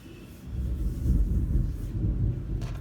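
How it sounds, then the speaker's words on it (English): A heavy thunderstorm produces deep thunder that rolls and swells in one long, low rumble, heard from a distance at moderate volume with no voices. "Got a really gnarly thunderstorm happening."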